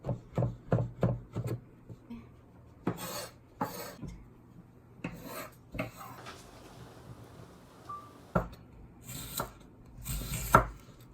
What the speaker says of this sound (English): Chop them very small.